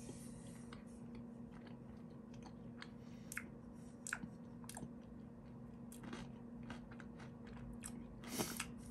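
Close, quiet crunching and chewing of a candy with crunchy styrofoam-like pellets, irregular crisp bites over a faint steady hum, no voices.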